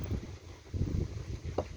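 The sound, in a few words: strong wind by the water while fishing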